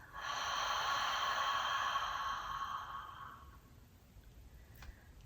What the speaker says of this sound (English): you're going to release out of the mouth